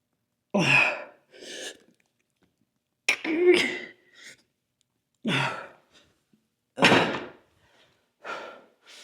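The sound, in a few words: cough after hard workout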